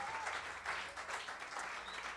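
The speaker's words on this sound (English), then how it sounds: "Give him a round of applause." Faint crowd applause for a bass player at a live music show, a soft continuous patter of clapping heard from some distance without talk over it.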